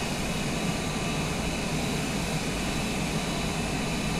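A big airplane's engines in a flight simulator game drone steadily as the aircraft makes a tight turn on approach to a short runway at Montauk, a constant even hum with no talk.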